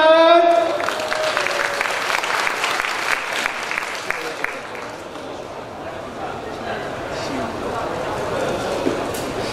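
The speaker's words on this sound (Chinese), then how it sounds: "掌声欢迎他们。" Audience at a cosplay contest giving a burst of applause, busy steady clapping that runs for several seconds and slowly fades, with a voice heard over it and a brief tone at the start.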